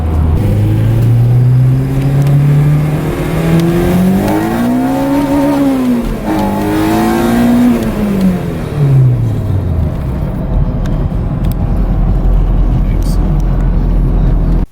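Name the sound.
Honda car driving on test drive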